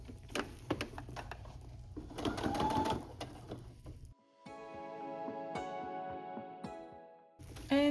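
A sewing machine stitches fabric straps for a slow cooker carrier, running in quick close rhythmic bursts between short pauses and handling noises.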